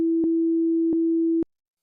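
A plain sine wave oscillator in the Serum 2 synthesizer, set up for a drum and bass kick, holds one steady pure tone with three soft clicks before it cuts off abruptly.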